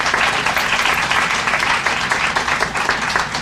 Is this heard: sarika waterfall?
no